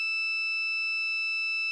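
A multimeter gives a steady, high, pure continuity beep while its leads test a freezer's overload, a constant close tone that lasts the whole moment with nothing else heard.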